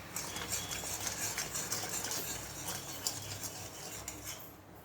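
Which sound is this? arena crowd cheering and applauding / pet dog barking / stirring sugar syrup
stirring sugar syrup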